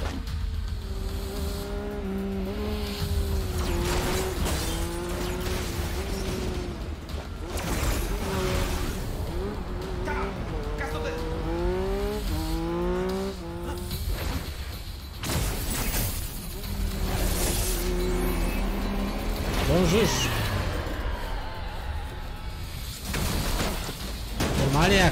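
Motorcycle ride in Ghostwire: Tokyo, a steady engine drone with shifting pitch sweeps as the bike accelerates and revs, loud and continuous throughout with game sounds and a voice talking over it.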